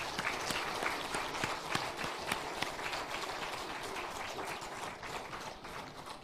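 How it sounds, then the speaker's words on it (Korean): A church congregation claps for a visiting teacher during a Sunday service: steady, fairly distant applause from many hands with scattered sharper claps, gradually fading toward the end. "박수 한번 해주시죠"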